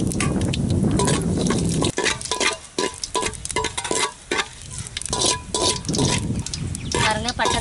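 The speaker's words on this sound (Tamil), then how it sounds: "எண்ணெய் சூடாகிட்டு இப்போ பட்டை கிராமெல்லாம் சேர்த்துக்கலாம்." Cinnamon and cloves sizzle in hot oil for a mutton gravy, giving a loud, crackling fry with bursts of scraping and stirring and uneven pauses in the hiss.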